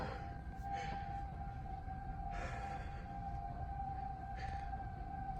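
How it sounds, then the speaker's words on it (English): Tornado warning sirens wail steadily in Independence, Missouri, a distant sustained tone rising and falling under a constant background rumble of wind. "Sirens again."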